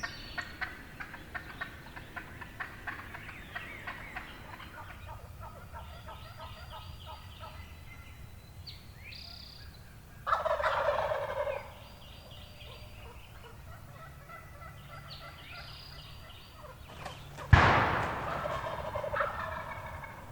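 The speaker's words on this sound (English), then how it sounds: "The toms are right here." Wild turkey toms gobble on Tennessee public land in spring hunting season, with fainter distant gobbles throughout and two loud, close gobbles about seven seconds apart, and no talk.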